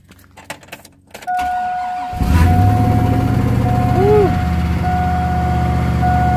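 Keys jangle briefly near the start as someone grabs them beside a lawn care truck, followed by a loud, steady vehicle engine rumble and a short high mechanical whine or squeal.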